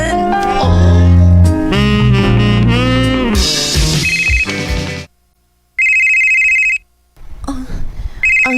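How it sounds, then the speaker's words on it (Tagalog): A cellphone rings loudly with a bright electronic ringtone, two short bursts separated by silence after a stretch of loud music. "Ang cellphone ni Dandan nagsikikring"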